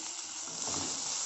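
Slit green chilies sizzle in oil in a frying pan for cauliflower masala, a continuous close hiss that swells slightly midway, with no speech.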